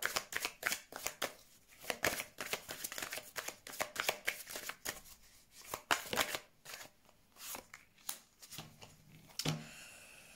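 Tarot cards being shuffled and handled, with rapid crisp riffles and slaps of card stock repeating steadily, close and fairly loud, without any talking.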